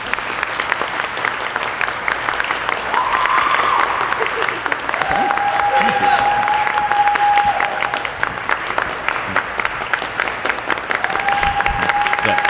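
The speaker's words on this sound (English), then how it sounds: "thou shalt clap, damn it." An open-stage comedy audience claps steadily and densely for about twelve seconds, the applause filling the room with a few faint voices and whoops mixed in.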